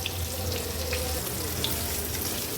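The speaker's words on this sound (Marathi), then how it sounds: "आणि या तुकड्या तळून घेणार आहोत।" Fish pieces for an Agri-Koli style fish thali fry steadily in hot oil over a medium flame, a continuous even sizzle and crackle with no pauses, close and moderately loud, with no talking.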